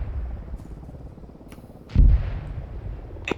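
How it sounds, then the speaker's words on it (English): A single heavy burst of autocannon fire at a military field training exercise booms at a distance, standing out once against a steady low rumble of wind and background noise. "auto cannon fire to your east"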